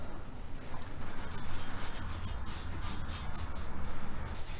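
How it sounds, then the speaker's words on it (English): Rag soaked in acetone wiping orange paint off a metal shave skid to prep a weld surface: a steady, close, scratchy rubbing of quick back-and-forth strokes with no talking. "The acetone sure takes that orange paint off in a fat hurry."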